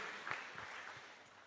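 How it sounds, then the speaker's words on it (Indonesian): A church congregation applauds during a worship service, a soft, diffuse patter of many hands that fades out, heard at a distance in a reverberant hall. "Beri tepuk tangan yang terbaik buat Tuhan Yesus Kristus"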